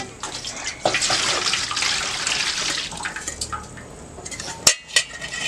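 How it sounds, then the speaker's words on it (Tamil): Water gushes steadily from a tap into a cooking pot for a few seconds, then tapers off, followed by a couple of clinks and splashes of metal cookware, while making chicken biryani at home. "இப்படி பொட்டு மேலே வச்சு அது கொஞ்சம் தண்ணி விட்டுருவோம்"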